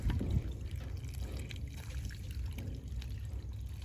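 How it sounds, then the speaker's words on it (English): Water slowly fills a snapping turtle pond, a low, steady gurgling pour and trickle running continuously at a soft level with a brief splashier burst at the start. "now to fill it up, got to go real slow because we don't want the water to get kicked up"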